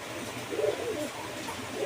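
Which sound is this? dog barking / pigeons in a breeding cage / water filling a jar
pigeons in a breeding cage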